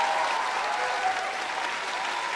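Studio audience applauding winners on a Colombian TV variety show, a dense, steady wash of clapping that stays even and fairly close throughout.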